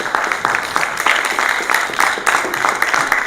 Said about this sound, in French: On peut les applaudir si vous voulez bien.